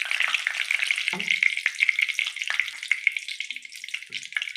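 Cardamom, cloves and cinnamon are dropped into hot oil left from frying potatoes, a bright continuous sizzle close up with a few scrapes and clinks, with no voices.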